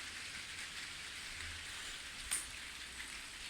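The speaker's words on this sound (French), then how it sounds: "samedi matin, il pleut." Steady rain falls throughout, a soft continuous hiss with one brief louder patter of drops near the end.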